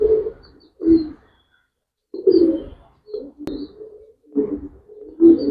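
Pigeons being shown for sale coo in low, throaty bursts, several close calls separated by short pauses and rising and falling in a steady rhythm.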